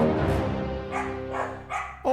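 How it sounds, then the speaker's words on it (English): Several dogs bark and yip in a room where a podcast is being recorded, a cluster of sharp barks repeating over a tonal background hum, fairly close and moderately loud. "You made the dogs bark."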